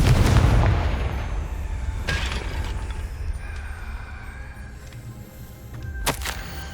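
Confringo blasting curse exploding in the Hogwarts Legacy video game, opening with a loud, deep boom that decays into a rumbling tail, followed later by a sharper crack, all without speech.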